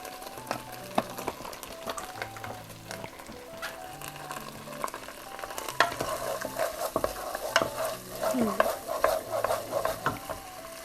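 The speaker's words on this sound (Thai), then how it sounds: "เดี๋ยวเรารอผัดพริกแกงแป๊บหนึ่งนะคะ" Panang curry paste stir-fries in oil for a beef panang, a spatula scraping and clinking against the pan in irregular strokes over a soft, steady sizzle that grows busier toward the end, with no talk.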